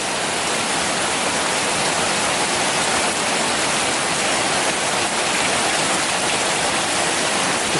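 Heavy thunderstorm rain pours down nonstop, water rushing loudly into a drain in a steady, dense hiss and splash that stays constant and close with no pauses.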